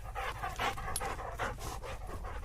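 Gun dogs, a fox-red Labrador and a Springer Spaniel, pant steadily and close by on a countryside walk, with rhythmic breathy bursts and no talking.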